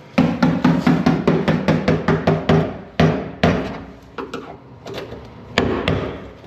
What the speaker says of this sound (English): I've got the chisel out